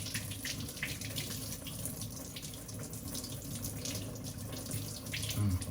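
Steady running tap water splashing as soap is rinsed off a gold Rolex watch at a sink, a continuous close hiss and patter of water with small splashy variations throughout, no talking.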